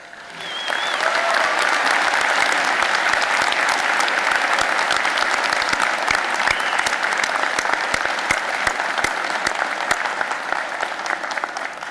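Sustained, enthusiastic applause fills a hall at a college recognition ceremony for the Edwards College of Humanities and Fine Arts, many hands clapping steadily for over ten seconds before easing slightly at the end.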